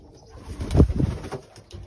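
A marathon racing pigeon coos up close, a short run of soft throaty pulses that peaks midway and trails off, with faint rustling around it.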